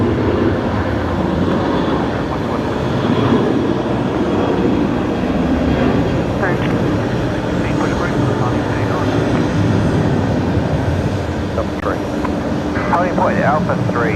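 An Airbus A330 heads off at night at Brisbane Airport, its engine roar a steady, loud wash throughout, with people talking over it.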